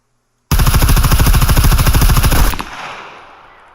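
Mk18 rifle fired in rapid full-auto in the video game SCUM, a loud continuous burst of about two seconds that cuts off into a fading echoing tail, with no talk.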